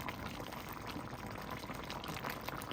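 Kare-kare stew simmering in a pot makes a steady soft bubbling and faint gurgling, close and quiet, with no talk.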